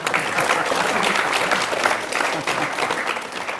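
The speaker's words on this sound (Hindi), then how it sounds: "मैं चाहता हूँ कि आप उन शिक्षकों के लिए एक जरूर ताली बजाएं" An audience applauds teachers of the Mangalyaan Mars mission team at a televised event; dense, sustained clapping from many hands fills the whole stretch at a steady level, easing slightly near the end.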